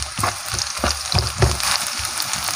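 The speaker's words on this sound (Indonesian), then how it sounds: "saya tumis dulu bawang merah" Shallots sauté in a pan for an Indonesian home-cooked dish, giving a steady close sizzle broken by repeated scraping stirs and spatula knocks, with no voices.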